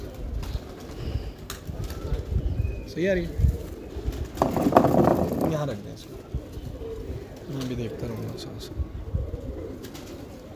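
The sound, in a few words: pigeons cooing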